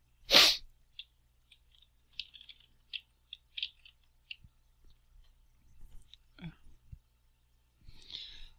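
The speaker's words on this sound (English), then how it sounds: "Try not to sneeze on recording again." One sharp, close sneeze bursts out at the start, followed by a string of small soft mouth and breathing noises and scattered clicks in a quiet room.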